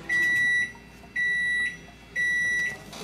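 A Panasonic microwave oven sounds its finishing alert after three minutes of cooking: three long, loud, evenly spaced beeps, each about half a second, with no one talking.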